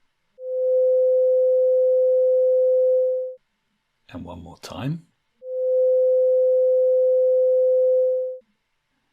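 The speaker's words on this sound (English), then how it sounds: "Now let's listen to a sound at twice the frequency." A pure sine tone at 512 cycles per second plays as two clean, steady, loud tones of about three seconds each, separated by a brief spoken phrase.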